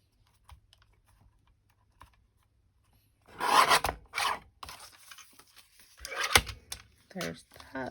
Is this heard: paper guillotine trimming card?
yes